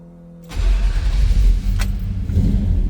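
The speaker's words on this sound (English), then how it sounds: "So let's go ahead and fire this up." A 1968 Chevrolet Nova's small-block 350 V8 fires up after a brief quiet moment, then settles into a loud, close, rumbling idle that holds steady to the end.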